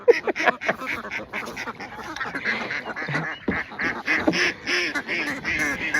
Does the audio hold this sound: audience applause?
no